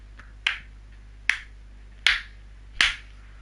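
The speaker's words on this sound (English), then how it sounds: "Sarcastic clapping continues." Sarcastic clapping, four slow, sharp, evenly spaced claps or snaps standing out clearly against a quiet background with nobody talking.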